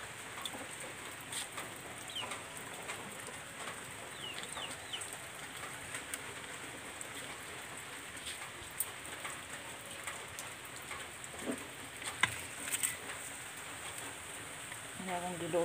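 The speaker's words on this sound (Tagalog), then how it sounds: "Diri nag-ulan." Steady rain falls outdoors in a rural setting, a continuous soft hiss of drops on surfaces with occasional louder patters, while birds and a rooster call faintly in the distance.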